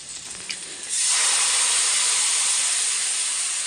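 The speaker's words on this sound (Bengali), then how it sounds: "পেঁয়াজটা ততক্ষণ ভাজা হোক" Onion frying in a pan on a home stove: a faint quiet stretch, then a loud, steady sizzling hiss that swells up suddenly and keeps going evenly to the end.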